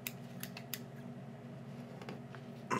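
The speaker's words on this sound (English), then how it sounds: "So white bucktail for our base of our tail, and we'll just cut off a hank of that." Scissors cut a hank of white bucktail hair for fly tying, with a few crisp snips close up over a steady low background hum.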